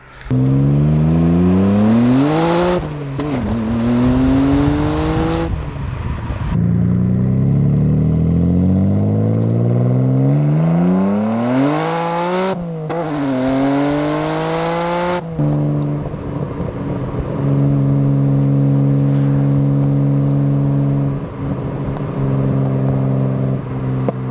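An R32 Skyline GTR engine revs hard through its new exhaust, loud and close, with repeated rising and falling sweeps, then settles into a steady, droning high-rpm hold near the end.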